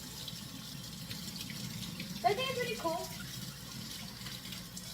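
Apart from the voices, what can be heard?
water running from tap while washing dishes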